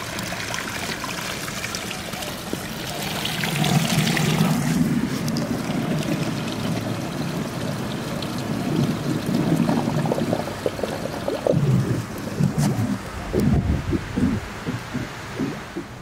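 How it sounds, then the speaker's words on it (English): A swimming pool skimmer sucks air with a low water level, giving steady gurgling, bubbling and splashing water that surges and trickles over about sixteen seconds, close by with no talk. "skimmer sucking air"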